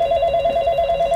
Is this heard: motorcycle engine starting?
no